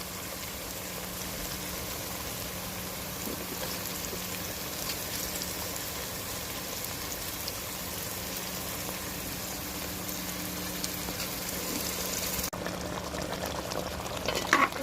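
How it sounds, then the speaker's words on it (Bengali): Goat meat going into a hot pot gives a steady, even sizzle and bubbling hiss that runs continuously at moderate level, with a small clatter near the end. "এখন আমি মাংসগুলো দিয়ে দেবো।"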